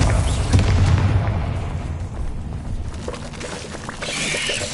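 An explosion from the Bombarda blasting spell in the video game Hogwarts Legacy booms at the start, followed by a rumbling, crackling decay and a softer burst of debris near the end.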